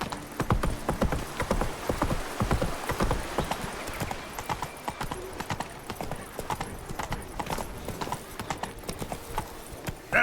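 Hooves of Roach, the horse in The Witcher 3, clopping in a fast galloping rhythm, close and continuous for the whole stretch, with rustling movement around them and a brief snort.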